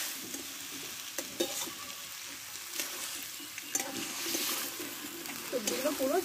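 Spiced vegetable stalks frying in a pan with water being added, giving a steady close sizzle with scattered stirring scrapes and clinks throughout, and a voice speaking over the cooking.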